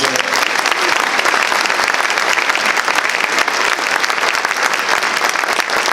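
Loud, dense audience applause fills a 2018 chamber of commerce annual luncheon, continuous clapping that holds at an even level throughout.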